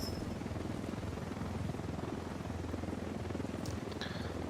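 Huey helicopter in a Vietnam video game, a continuous low rhythmic rotor thump, faint and steady, with a few brief high chirps late on.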